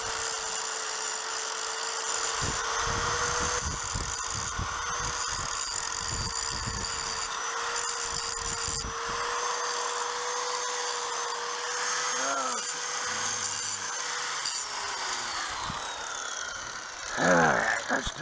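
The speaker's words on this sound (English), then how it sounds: "I'm grinding a little groove in there, about 1/8 of an inch deep" A power grinder cuts a groove about 1/8 inch deep in metal on a Blue Ox tow setup for a Jeep, a loud continuous high whine holding steady for most of the clip before winding down near the end.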